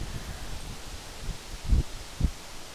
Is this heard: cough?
no